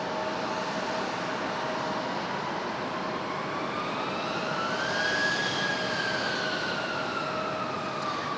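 A Boeing 777 jet departs Raleigh Durham International for London Heathrow, its steady roar heard from a distance with a rising whine through the middle, continuous and without voices.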